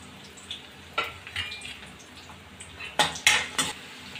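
Chopped onion dropped into hot oil with cumin in a pan and stirred with a metal spoon for aloo poha, giving scattered scraping clinks and sizzling bursts, loudest near the end, with no talking.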